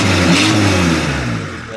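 A tractor's diesel engine, started after the glow plugs warm, revs up loudly and continuously at close range, then eases down slightly toward the end, with no talk over it.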